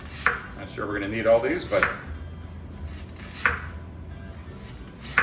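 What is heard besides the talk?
knife slicing sweet potatoes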